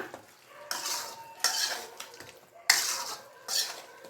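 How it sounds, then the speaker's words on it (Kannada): Chicken with pepper is stirred in a pan with a metal utensil, giving four bursts of bright scraping and clattering against the cookware at a steady, unhurried pace, close and clear with no talk. "ಹಾಗಾಗಿ ಈಗ ಮಿಕ್ಸ್ ಮಾಡ್ಕೊಂಬಿಡೋಣ"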